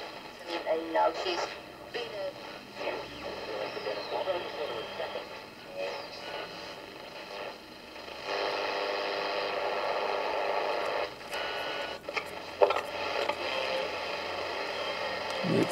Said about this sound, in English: it sounds like a transistor radio from this period.